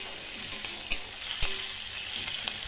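Food fries in a hot wok, a continuous close sizzle with a few sharp clinks and spatters cutting through at irregular moments.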